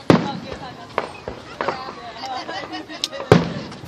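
Independence Day fireworks going off in quick succession, several sharp booms and cracks over a continuous crackle, with people talking underneath.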